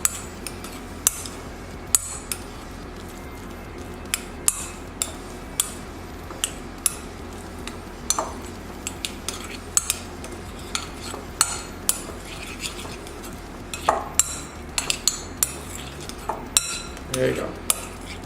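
Veggie lasagna filling with cremini mushrooms being mixed in a bowl, a steady run of spoon scrapes and clinks against the dish, with sharper taps scattered throughout.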